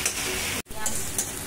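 Food fries in a pan during home dinner preparation with chicken and bottle gourd on the go: a steady, loud, hissing sizzle that cuts out for a split second, then resumes with a few sharper crackles.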